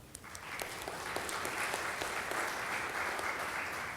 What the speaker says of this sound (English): I want to take this little few seconds to give them a round of applause